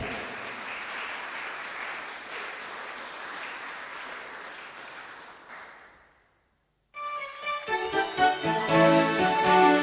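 Applause at an Estonian music awards ceremony as a band is introduced, a crowd clapping for about six seconds and fading into a short silence before loud music with vocals starts.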